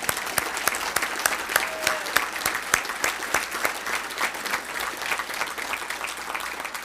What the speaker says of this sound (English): he deserves the biggest round of applause of all tonight